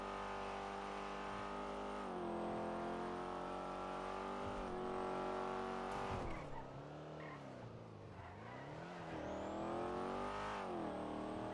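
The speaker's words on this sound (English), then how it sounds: "I should just practice the lap in my Panamera." A Porsche Panamera in GTA RP roars through laps with a sustained engine note that rises and falls across gear changes, dipping briefly mid-run before climbing again, loud and close with no talk.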